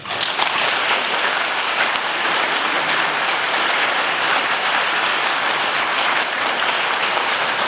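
Warm congregation applause in a Catholic parish church welcoming a newly appointed priest at Sunday Mass, a full, steady roar of clapping that holds evenly for almost eight seconds.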